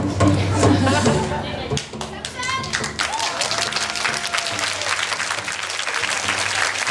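An audience claps loudly after a song performance, with dense continuous applause that follows a brief stretch of music at the start and stays steady to the end.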